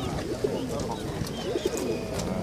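Ural monk pigeons coo at a bird market, with several soft rounded coos near and repeated, over a low background of market murmur.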